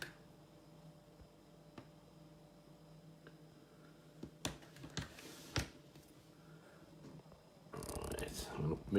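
Scattered sharp clicks of keyboard keys being pressed while playing the game Montana Mike on a ZX Spectrum Next, with a dense burst of clicking near the end over a quiet, humming background.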